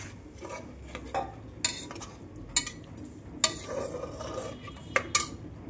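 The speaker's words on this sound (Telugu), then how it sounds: "ఇప్పుడు ఈ కూరగాయ ముక్కల్లో చిలికిన పెరుగుని వేసుకొని కలపాలి." A spoon stirs whisked yogurt into chopped vegetable pieces in a pot for vegetable biryani, giving soft wet mixing sounds broken by several sharp clinks of metal on the pot, close up and with no talking.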